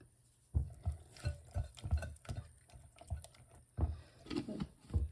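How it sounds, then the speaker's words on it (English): A spoon scrapes and clacks around a bowl in quick, uneven strokes, close and fairly quiet, with no one talking. "Stir it up."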